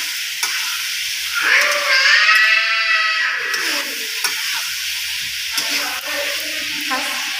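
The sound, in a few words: stirring mutton curry with turmeric in frying pan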